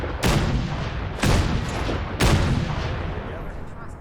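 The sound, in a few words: weapon firing in the video game Fallout 4 VR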